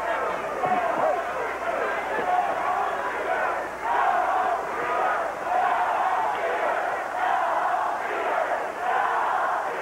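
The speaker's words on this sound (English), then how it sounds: "The chant of "Go Home Freebirds."" A large wrestling arena crowd in New Orleans chants "Go Home Freebirds" in a loud, rhythmic, repeating cadence, the chorus of many voices swelling and falling in steady waves.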